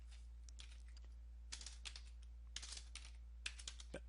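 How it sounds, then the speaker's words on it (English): Computer keyboard typing as a command is entered to fix a Lenovo laptop stuck in a boot loop, a few quick clusters of crisp key clicks over a steady low hum. "you want to type in MD, so uppercase MD here"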